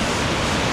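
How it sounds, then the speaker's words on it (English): Small waterfalls on a creek near Guadalupe, Colombia give off a dense, steady rush of falling water, close and loud for a brief moment. "And there's some more small waterfalls."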